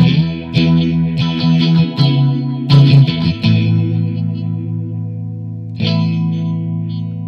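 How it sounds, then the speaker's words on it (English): Electric guitar through the phaser effect of a Blackstar ID:Core V3 amp, with a few ringing strummed chords and picked notes that swirl and sweep over a sustained tone, loud and close with no talking. "Starting off with a phaser."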